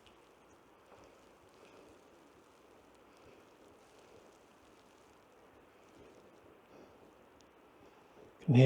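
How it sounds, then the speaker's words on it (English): Mountain streams on a winter hike up Causey Pike in the Lake District give a steady, faint, distant rush under open-air wind noise, ending with a sudden loud close knock. "You can hear the streams roaring in the background."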